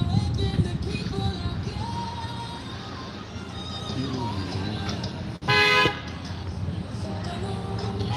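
At a street protest against ICE, a truck gives a short, loud horn blast in the middle, rising over steady traffic and crowd noise with voices talking throughout.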